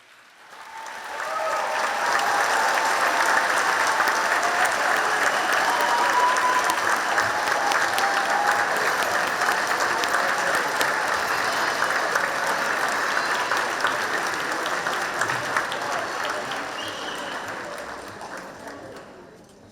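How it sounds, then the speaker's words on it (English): Graduates at a 2026 university graduation ceremony applaud their family and friends, a loud, sustained wall of dense clapping from a large crowd that swells quickly, holds steady for most of its length and tapers off near the end. "give them a big round of applause"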